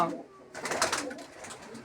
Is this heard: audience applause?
no